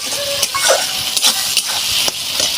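A spoon stirs pointed gourd (potol) in a cooking pot, making a few scraping and clinking strokes over a low background hiss.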